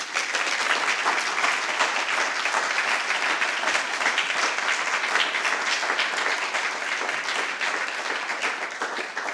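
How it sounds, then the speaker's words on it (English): A warm, sustained round of applause fills a hall at a jazz celebration for Esther Brimmer, steady dense clapping from a large audience throughout. "please join me in giving a warm round of applause to Esther Brimmer"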